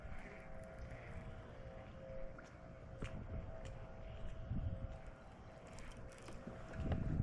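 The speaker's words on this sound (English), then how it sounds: "the wind continued to pick up in its speed" Steady wind gusting over a Kentucky lake during spring bass fishing, a low rushing roar swelling and easing throughout with faint thumps and rattles of gear, no voices.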